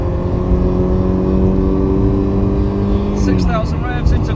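A Porsche 924 sports car engine drones at high revs, 5,000 to 6,000 rpm, pitch steady, then drops and climbs again as it shifts from third into fourth gear on the road, loud and close.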